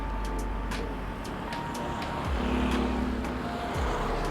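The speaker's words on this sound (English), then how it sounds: "You see the traffic." Steady street traffic in Chiang Mai's old city near Thaphae Gate, cars and motorbikes passing close by in a continuous rumble, with engines rising and fading as individual vehicles go past.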